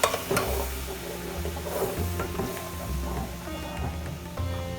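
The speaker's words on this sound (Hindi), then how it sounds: "और चलाते रहना है हमें।" Milk mixture for mishti doi stirred in a pan over low heat, with repeated scraping and knocking of a spoon against the pan at a steady rhythm and a low hum underneath.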